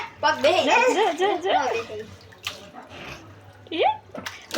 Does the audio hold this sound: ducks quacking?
no